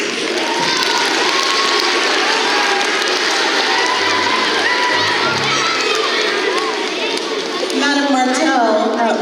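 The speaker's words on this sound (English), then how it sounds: "That's a round of applause." A school assembly audience cheers and applauds loudly after a second-grade French performance, with children shouting over sustained clapping for the full length, and a voice talking briefly underneath.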